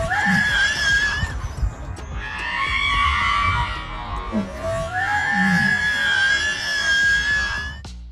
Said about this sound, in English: If you catch this chicken, it screams exactly like a woman.